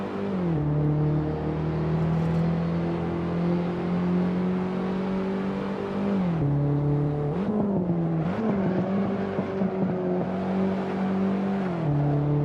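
A car engine in a career-mode driving video game hums steadily at a constant pitch, then dips and climbs through a few quick gear changes and revs, with no talking.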